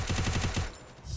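Rapid automatic gunfire from a 2v2 shooter video game match: a loud, tight burst of repeated shots for about two-thirds of a second, then a fading tail.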